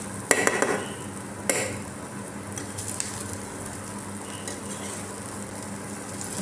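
Masala roasting in a pan for a Malvani-style clam curry gives a low, even sizzle, opened by a few quick scraping stirs with a spoon, then settling into a quieter steady fry with no voices.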